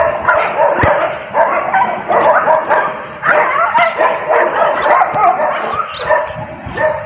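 Several dogs bark, yip and whimper continuously while fighting, loud and close, with overlapping snarling yelps throughout.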